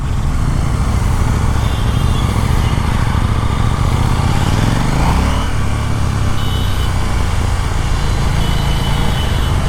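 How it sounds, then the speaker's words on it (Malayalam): A KTM Super Duke 1390 R motorcycle engine roars loudly and continuously up close. Its pitch sweeps upward once as the throttle is opened for a wheelie, over a steady droning exhaust. "ഞാൻ ത്രോട്ടിൽ കൊടുക്കുന്ന ടൈം വീല് ചെയ്യാൻ വേണ്ടി ബൈക്കിങ്ങനെ ചാടി നിൽക്കുക"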